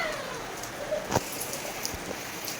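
Light village rain falls in a soft, faint patter, with scattered drops striking nearby and a faint bird call at a distance.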